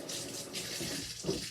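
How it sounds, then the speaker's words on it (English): A bathtub faucet runs as hands are rinsed under it, a short, steady splashing rush of water close by with no talking. "rinse our hands off in the bathtub faucet"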